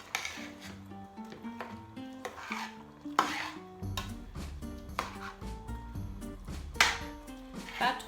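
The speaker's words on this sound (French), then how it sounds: "Un peu de poivre. Je vais un peu remuer le tout." A spoon scrapes and clinks around a pot of Congolese spinach seasoned with pepper, steady stirring strokes with metallic knocks beneath a musical backdrop, a voice speaking faintly.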